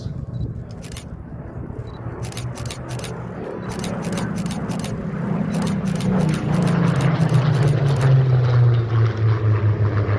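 A Spitfire makes a pass at an airshow, its piston engine droning as it approaches and sweeps by, growing louder and dropping in pitch, with camera shutter clicks firing in bursts over the top.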